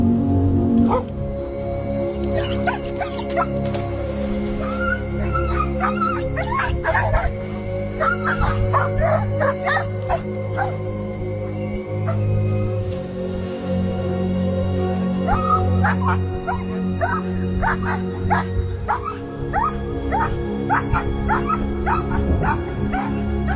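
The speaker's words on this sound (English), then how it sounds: "I've never heard a dog sound so scared." A frightened dog yips, barks and whimpers in rapid, uneven bursts over a steady low background hum, close and continuous for over twenty seconds, with no clear talk.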